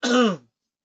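A single short throat-clearing cough, close and abrupt, then silence.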